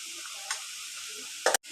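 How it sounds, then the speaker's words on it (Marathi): Cumin, turmeric, homemade masala and pav bhaji masala being mixed into the pav bhaji in a pan, giving a steady close sizzle with two short scraping clicks of a spoon, the last one cut off abruptly. "जिरं, हळद, मसाला, घरचा मसाला, पावभाजी मसाला हे सगळं टाकून आता मिक्स करून घेऊया"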